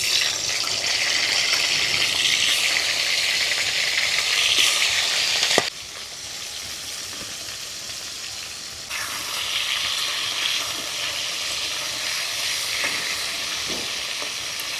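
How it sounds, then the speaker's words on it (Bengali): Crabs fry in very hot mustard oil in a village kitchen with a loud, continuous sizzle and crackle. It drops abruptly partway through and then rises again, with no voices heard. "কড়ার মধ্যে দিয়ে দিব সরিষার তেল তেলটা ভালো মতোই গরম হয়ে গেছে এবারে কাঁকড়াগুলোকে ভেজে নেব"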